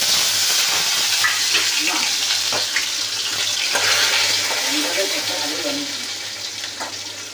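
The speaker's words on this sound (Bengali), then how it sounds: "এবারে উচ্ছেটাকে ভেজে নেব" Bitter gourd fries in oil with a loud, steady sizzle, plus occasional light clatter and scraping that fade slightly toward the end.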